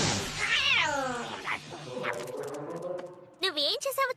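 A cartoon cat in Kid vs Kat lets out drawn-out, wailing meows and caterwauls, loud and close, with short squeaky cries near the end and other cartoon sounds between them.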